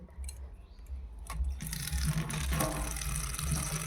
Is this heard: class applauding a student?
no